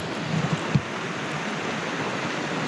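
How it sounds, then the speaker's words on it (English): Heavy rain drums steadily on a van roof overhead in Pembrokeshire, a dense continuous hiss with a few faint knocks early on. "Hopefully the rain lets up in a minute."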